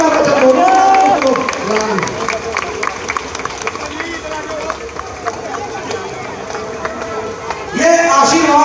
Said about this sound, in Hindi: देखो तालियां रुकनी नहीं चाहिए भाइयों